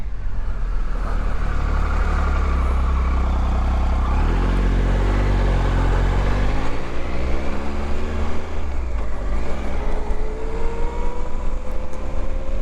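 Motorcycle being ridden, a loud close engine drone with rising and falling revs as it accelerates through gears, with wind noise and no talk.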